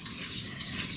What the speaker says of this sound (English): I'm mixing that as it goes in.